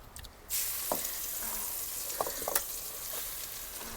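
Grated carrot halwa is tipped into hot ghee left from frying cashews and almonds. A loud sizzle bursts up and then settles into a steady close hiss with a few light stirring clinks, and no one speaks.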